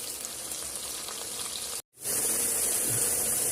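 Finely chopped onion and tomato frying in oil with bay leaves and cloves for Girnari khichdi, a dense steady sizzle that cuts out briefly and then returns louder and brighter as the vegetables hit the hot pan.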